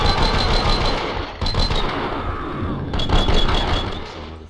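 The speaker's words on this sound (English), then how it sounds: "Someone must have heard the gunfire." Rapid bursts of automatic gunfire in the video game Max Payne crackle loud and close in two or three sustained volleys with short breaks between them.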